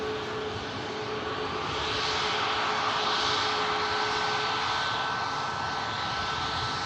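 Boeing 737 MAX 8-200 jet rolling off the runway after landing, a steady distant engine roar with a faint whine, swelling slightly midway and holding even throughout.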